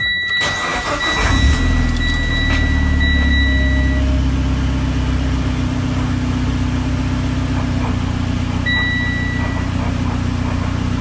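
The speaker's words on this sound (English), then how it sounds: "Car's idling okay." A Mitsubishi Evo X engine idles steadily right after a spark plug change, a close, continuous low rumble that settles in after a brief start-up surge and runs on alone with no talking.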